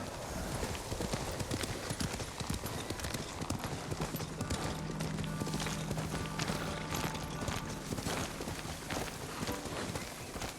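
Horse hooves galloping in the samurai video game Ghost of Tsushima, a fast, steady clip-clop rhythm running throughout at close range, with occasional faint game sounds underneath.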